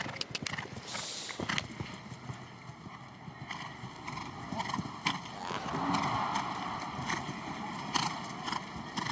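Hooves of a big-strided show-jumping horse on a Nations Cup course, rhythmic thudding footfalls at moderate distance under a faint ambient crowd, with occasional sharper knocks.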